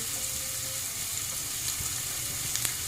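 Onions with a little salt sautéing in a pan, an even continuous sizzle with a few light utensil taps, close and moderately loud.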